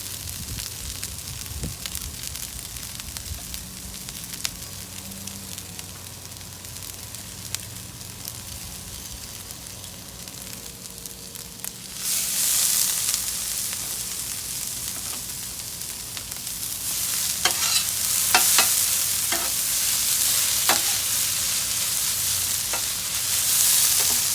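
Rice, carrots and onions fry on a Blackstone griddle, a steady broadband sizzle that quietens and then swells louder halfway through, with scraping stir strokes toward the end.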